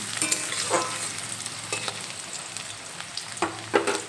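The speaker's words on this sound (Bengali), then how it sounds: "মিডিয়াম ফ্লেমে আলুগুলো 2 মিনিটের মতো ভেজে নিয়েছি।" Potatoes fry in a pan over a medium gas flame, a steady close sizzle punctuated by several scraping stirs of a utensil against the pan.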